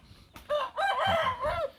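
A rooster in a backyard chicken coop crows once, a close, clear, wavering call lasting over a second, preceded by a short cluck and quiet background sound.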